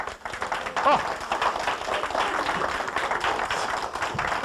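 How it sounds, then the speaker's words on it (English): Audience applause on a Sunday morning gathering, a continuous wash of many hands clapping at moderate volume, slightly distant, with a voice briefly heard over it. "Get a round of applause here on Sunday morning"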